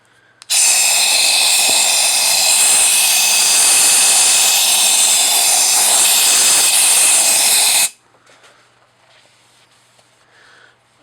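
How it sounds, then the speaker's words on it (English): A long, loud hiss of compressed air blasts into a freshly honed 4G63 engine block cylinder for about seven seconds, then cuts off abruptly, leaving faint background noise. "Maybe a second blast of air."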